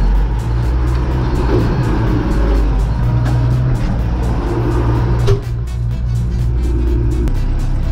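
A vehicle engine drones loudly and steadily as the vehicle creeps forward, a close, continuous low rumble with a brief knock partway through.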